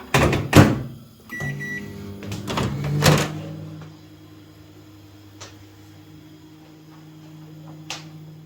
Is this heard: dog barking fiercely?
no